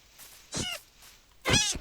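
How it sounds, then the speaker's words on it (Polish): Two short cat meows in Minecraft, close and fairly loud, spaced about a second apart with quiet between them. "O, kotek."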